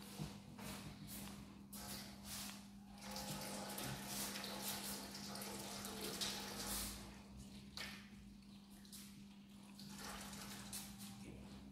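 Tap water runs continuously while hands are washed under it, with faint splashing and rubbing over a steady low hum, no talking.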